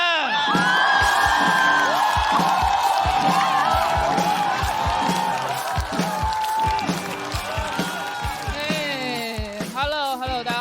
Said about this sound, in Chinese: 掌声有请李卓妍